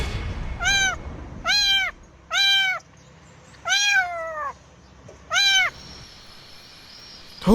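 A house cat meows five times in a steady, evenly spaced series, each call clear and close with short quiet pauses between, heard alone without talk.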